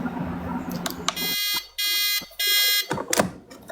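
A fancy coffee pot sounds its alarm with three loud, sustained electronic buzzes, each about half a second long, separated by short gaps and surrounded by clattering kitchen noise.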